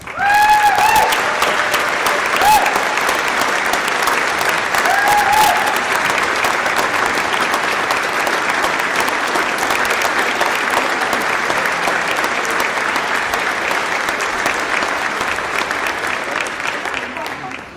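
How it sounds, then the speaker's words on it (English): Legislators in the Texas House chamber in Austin give a long, loud round of applause, a dense wash of clapping from a large crowd that gradually tapers at the end, with occasional voices and cheers. "Members, let's give them a round of applause."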